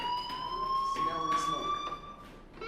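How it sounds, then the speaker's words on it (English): A fire alarm in the video game Life is Strange rings as a steady electronic tone at moderate loudness, with a person talking over it. "Hey, do you hear that fire alarm?"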